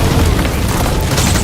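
A sustained explosive roar from Metal Gear Solid V, likely an oil drum or fuel tank blowing up, fills the whole moment with dense, loud, low rumbling and no clear onset or decay.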